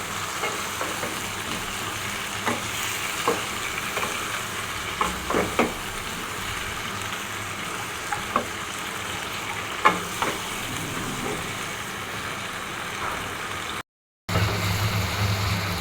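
Bottle gourd for lau chingri fries and is stirred in a pan, a steady near sizzle broken by repeated scraping taps of the spatula over about sixteen seconds, with a brief cut near the end and no talk.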